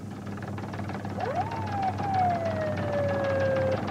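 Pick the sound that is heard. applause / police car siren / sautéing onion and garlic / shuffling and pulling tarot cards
police car siren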